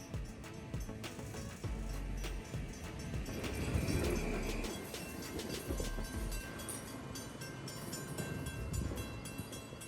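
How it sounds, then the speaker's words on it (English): A Shore Line East passenger train between New London and New Haven rumbles and squeals as it pulls forward, wheels clacking and brakes hissing, steady and fairly close. "our train pulls forward to a holding position to prepare for the trek down south"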